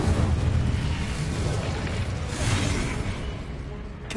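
A roaring burst of flame from an Incendio fire spell in Hogwarts Legacy, a dense sustained whoosh and rumble close by that surges midway and then fades slightly.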